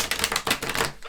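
A rapid string of crisp card snaps and flicks as tarot cards are pulled from a deck, close and fairly loud, about a dozen sharp clicks in quick succession.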